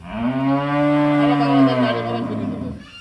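A single loud, close cow moo at a dairy farm, long and drawn out for about three seconds, rising then trailing off.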